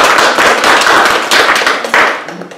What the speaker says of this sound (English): So please give a nice round of applause.